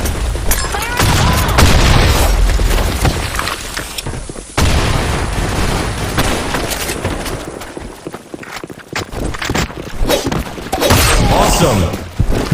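Grenade blasts and heavy gunfire in the game Counter-Strike, with dense crashing booms and rattling shots running continuously and loud, broken by a sharp cut partway through.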